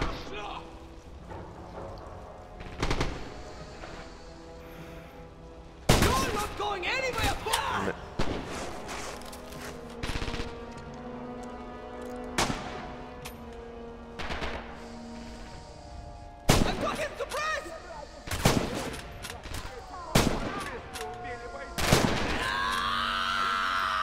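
Gunfire in the video game Red Orchestra 2: sharp, loud single shots and short bursts with heavy thuds, spaced irregularly across a battle, while someone talks between shots.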